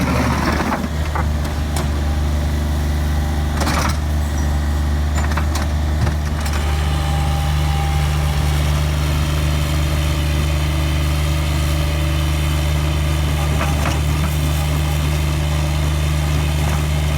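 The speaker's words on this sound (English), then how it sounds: "So I'm going to use the Bobcat loader to scoop the granular A gravel" A Bobcat loader engine runs with a constant low diesel drone while scooping granular A gravel, with a few faint knocks and scrapes over the steady rumble.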